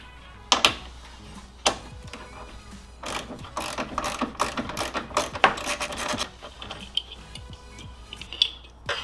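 A ratchet fitted with a 12mm socket loosens the horn bolt on a 2019 Subaru WRX, giving quick bursts of close clicking with short pauses between the strokes.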